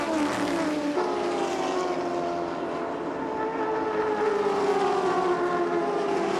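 AUSCAR race cars, including a tired 5.8-litre V8 running against Commodores, roar past at the Calder Park Thunderdome oval, a continuous loud engine drone with pitch sliding as the pack passes.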